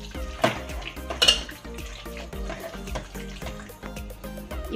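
Chicken and amaranth greens being mixed in a pan with green chilli paste, with repeated utensil scrapes and clinks against the pan over a steady low cooking background, close and moderately loud, no talking.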